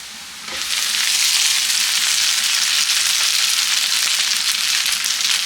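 Rice goes into a hot oiled pan, and a loud, steady frying sizzle springs up suddenly and holds evenly, close and unbroken.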